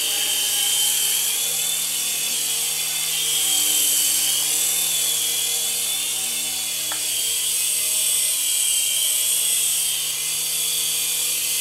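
A small remote-control helicopter flying indoors gives off a loud, steady high-pitched rotor whine and buzz that holds constant throughout, close to the listener, with no talking.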